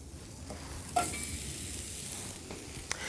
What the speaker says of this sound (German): Die werden jetzt klein geschnitten und kommen dann in meine gusseiserne Pfanne.